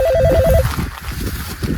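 A phone rings with a loud, fast-pulsing electronic tone in a short burst at the start, then gives way to quieter low rumbling and faint movement.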